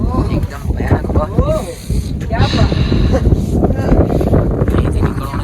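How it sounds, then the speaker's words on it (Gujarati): Fierce wind buffets the microphone near the summit of Brahmagiri mountain above Trimbakeshwar near Nashik, roaring loud and continuous while someone shouts over the gusts. "ફૂલ હવા ચાલી રહી છે એકદમ ભયાનક હવા"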